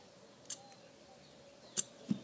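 Scissors handled for a craft stencil project give a few crisp, sharp metallic snips and clicks, close and isolated against a quiet background with no talking.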